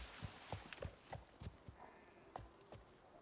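Quick, uneven clip-clop of a video game horse's hooves striking ground in Icarus, fairly close and loud, a run of sharp thuds with a faint whinny-like tone in the background.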